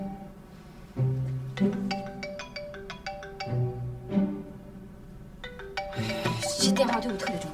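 A phone ringtone plays a repeating melodic tune in rising and falling phrases, fairly clear and close, with some faint background voices toward the end.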